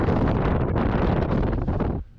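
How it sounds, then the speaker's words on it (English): Strong wind roaring and buffeting the microphone in loud rough gusts at an exposed site in Scotland, then dropping away abruptly at the end. "see when those winds, when it gusts"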